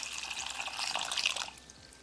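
Water pours steadily into a saucepan for about a second and a half, then stops, leaving quiet room tone.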